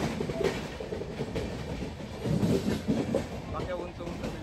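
A Mumbai train runs on its rails with a continuous rumbling roar and rattling wheel clatter close by, and voices are mixed into the noise.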